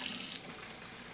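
Water runs steadily from a tap, a close, continuous rushing splash with no voices.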